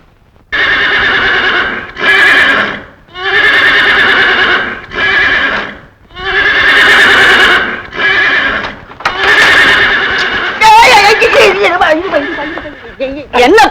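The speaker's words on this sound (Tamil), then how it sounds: "குதிரைக்கு புல்லு தரது புது விருசா இருக்கு" A horse neighs and whinnies in a series of long, loud, shaky calls separated by short pauses, with clattering and other noise building near the end.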